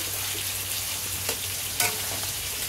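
Potatoes sizzle and fry in a hot pan, a steady bubbling hiss throughout with a couple of brief stirring clinks, close and alone without speech.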